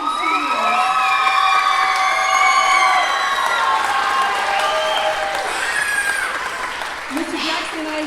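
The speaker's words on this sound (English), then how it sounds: "let's give a round of applause to our director and seniors" Sustained applause and cheering from a school concert audience, with whoops and children's shouts over steady clapping, loud and continuous throughout after a spring band performance.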